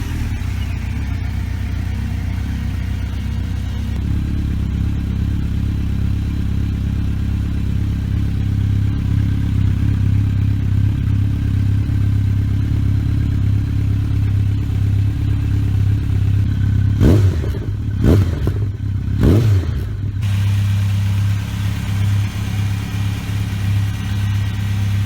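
Honda CB1300 motorcycle engine idling with a steady low rumble, broken near the end by a few sharp, quick revs before it settles back to idle.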